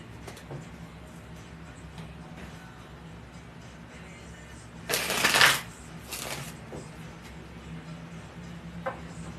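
Tarot cards are shuffled by hand, a low room hiss broken by one loud riffling burst about halfway through and a softer second flutter just after, with small taps scattered around.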